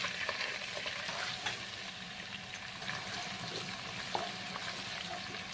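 Ginger-garlic paste and slit green chillies frying in a pan for a brown chicken dish, giving a steady close sizzle with faint stirring scrapes and small pops throughout, no talking.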